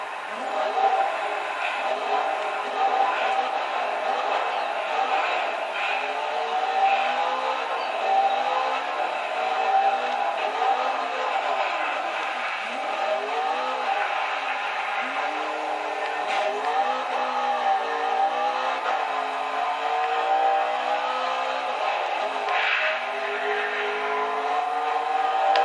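A McLaren MP4 race car engine whines steadily throughout, its pitch sweeping up and down through gear changes at a moderate distance, with no talking over it.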